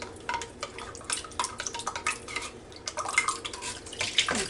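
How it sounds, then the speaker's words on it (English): A spoon stirs water and canned cream of chicken soup in a cup for a chicken and rice casserole, giving irregular close clinks and liquid swishes for several seconds with no talking. "I'm just going to stir it up a little bit"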